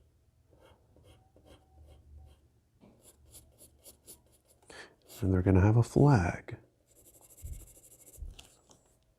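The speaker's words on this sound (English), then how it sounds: "There goes that pencil again" A pencil scratches across paper in short strokes and bursts while sketching a beach scene, with a voice talking in the middle of the strokes.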